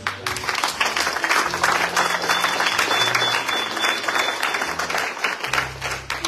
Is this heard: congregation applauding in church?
yes